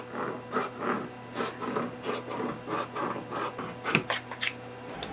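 Scissors cut through fabric scraps for a kaftan top, giving a steady run of close, rasping snips about twice a second with no talking.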